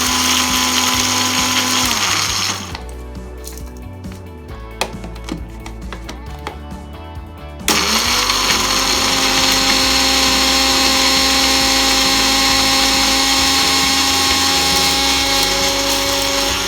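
An electric mixer grinder whirs loudly as it pulverises rasam spices into fine powder, running in two long, steady bursts separated by a few seconds of rattling, clattering spice tumbling.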